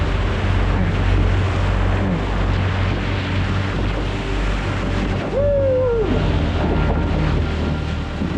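Rushing river rapids roar in a steady, loud, broadband wash during a solo wilderness paddling trip, with wind buffeting the microphone and a brief higher tone near the end.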